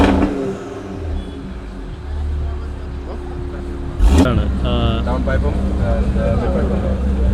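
Sports car on Kochi streets, a Huracán or M2 with modified exhaust piping, starting up with a sudden loud roar and then idling with revs over street noise while people talk.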